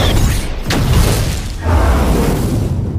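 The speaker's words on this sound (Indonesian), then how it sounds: "tembakannya meleset mengenai bahan bakar sehingga bahan bakar itu meledak" Leaked fuel detonates in an Alien film, a loud booming blast followed by a second heavy rumbling burst and debris-like crackle, with no voices.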